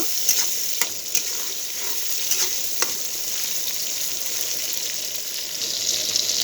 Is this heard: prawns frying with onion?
yes